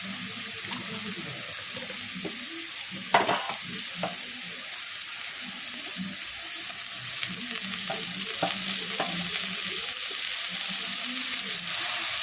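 Potato and chopped carrot fry in a pan, a continuous sizzle under repeated scraping and clattering strokes of a spoon as the pieces are stirred, close and steady.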